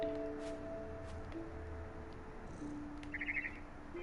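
Soft bird chirps in the video game What Remains of Edith Finch come in a quick cluster near the end, faint over a quiet tonal background hum.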